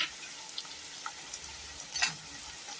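Potatoes go into a hot frying pan of onions cooked until transparent, for a cashew potato gravy, with a soft, low sizzle and a brief louder rustle of oil near the end.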